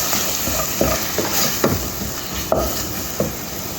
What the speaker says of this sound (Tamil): மசாலா போடுவோம் எல்லாம் ஒன்றா தான் வதங்கிட்டோம்